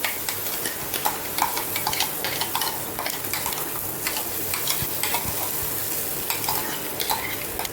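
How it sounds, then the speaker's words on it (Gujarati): Spoon stirring masala roasting in a pan for palak paneer, a steady sizzle with repeated scraping and clinks of the utensil against the metal, close and continuous with no talk. "હવે મિક્સ કરીશું બરાબર અને થોડી વાર મસાલાને શેકાવા દઈશું"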